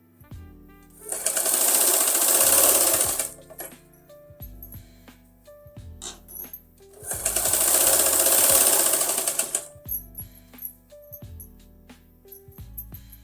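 A sewing machine runs a double line of stitching on a kurti seam in two sustained bursts of rapid, steady stitching, each a few seconds long, with quieter handling clicks and fabric shifting between them.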